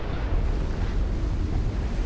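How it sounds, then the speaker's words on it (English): Water streams through the terrain in the video game From Dust, a steady, dense rushing wash that holds level throughout without pauses. "I see there's still water coming from there"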